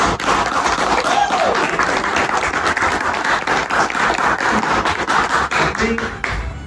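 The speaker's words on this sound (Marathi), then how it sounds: "टाळ्या टाळ्या" An audience at a high school batch reunion claps in sustained, dense applause, loud and close throughout, with a few voices faintly audible under it.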